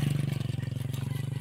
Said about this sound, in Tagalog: Ayan o, motor.